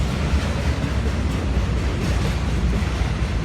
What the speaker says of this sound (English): Here comes the other one. You're supposed to stop if there's another train coming